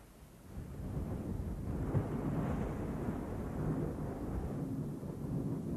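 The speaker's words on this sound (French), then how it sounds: "Sans cesse, de violents orages annoncent le climat qui va s'installer ici dès le mois de juin." A violent storm over Mahasthan in Bangladesh brings a long, deep rumble of thunder that swells and rolls on steadily at a moderate distance, with no voices.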